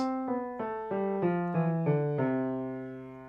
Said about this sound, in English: so when you played the scale from middle C down